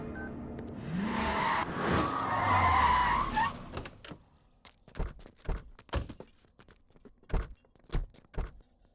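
A car skids to a stop, with a long, loud tire squeal that fades out, followed by a run of sharp thumps like doors shutting and footsteps nearby.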